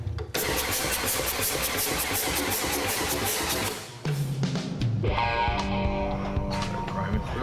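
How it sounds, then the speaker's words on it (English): A custom motorcycle engine, jump-started with a booster box during a biker build-off, cranks and catches into a loud, steady roar that briefly dips before settling into a rough idle, with voices around it. "When the engine's a no-go, the guys hit it with the booster box."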